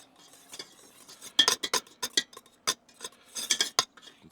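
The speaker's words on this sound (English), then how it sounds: "So I'm just going to go ahead and scrape this into my bowl." A utensil scrapes freshly whipped cream from a mixing bowl into another bowl, giving a series of close, irregular clinks and scrapes against the dish.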